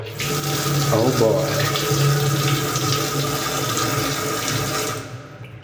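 Water runs steadily from a kitchen tap in a vacant one-bedroom house in Nairobi, a continuous close hiss and splash that lasts about five seconds before cutting off, with a brief spoken exclamation near the start.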